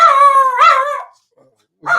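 A dog barks and howls in a drawn-out, harmonic cry lasting about a second, then a short second bark follows after a pause, loud and close, indoors during a sports betting show.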